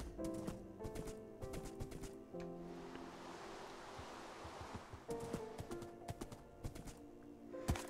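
Rhythmic clip-clop of horse hooves at a steady trot in Minecraft, mixed with game music tones and a soft rushing wind-like wash in the middle.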